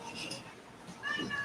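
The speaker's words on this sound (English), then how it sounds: "that's my cat begging to be fed." A house cat meows insistently while begging to be fed, two or three fairly close calls with a louder, more strident cry near the end, mixed with faint background voice.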